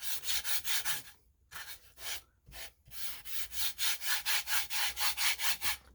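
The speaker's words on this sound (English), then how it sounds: "this is a 320 grit sandpaper" Wood is sanded by hand with 320 grit sandpaper, close and rasping in quick rhythmic back-and-forth strokes, broken by two short pauses before the steady scrubbing resumes.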